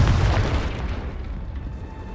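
A deep, rumbling boom from the Confringo fire spell in the Hogwarts Legacy video game, loud at the start and slowly fading into a low, noisy tail over about two seconds, with no voices.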